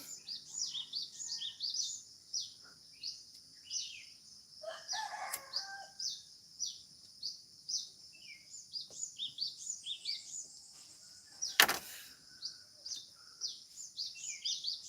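Birds sing and chirp outdoors in a steady high chorus with repeated short calls, joined by a rooster-like crow, brief rustles and a sharp broadband burst near the end.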